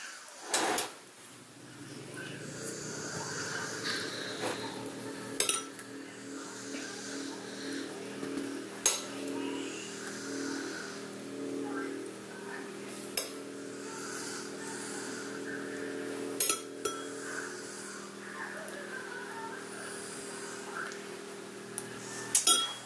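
Spoon clinking as sauce is spooned onto English muffins for Halloween treats, sharp metallic taps spaced every few seconds over a quiet kitchen hum.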